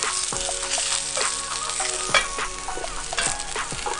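Salsa vegetables roast over an outdoor fire in plenty of olive oil, crackling and sizzling loudly with repeated stirring clatters and scrapes, close up, and no voices.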